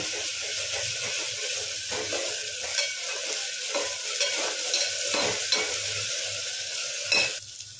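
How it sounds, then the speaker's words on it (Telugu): Ginger garlic paste fries in hot oil for chicken curry, giving a constant close sizzle broken by repeated scrapes and stirring strokes of a spoon against the pan. "అల్లం వెల్లుల్లి పేస్ట్ అయితే. ఈ పేస్ట్ని ఇట్లా మంచిగా వేయించుకోండి"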